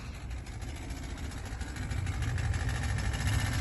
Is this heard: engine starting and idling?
yes